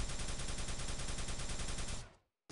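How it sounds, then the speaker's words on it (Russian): Video game gunfire during a Summer Cup 2019 match on map PDM02_dAde, a dense, rapid run of repeated shots at steady loud level that cuts off abruptly after about two seconds. "Вот сразу, кстати, выстрел."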